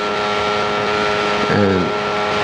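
A 1993 Benelli racing motorcycle engine climbing the Mountain Mile on a TT lap, a loud, sustained high-revving whine with a short rising pitch sweep near the end.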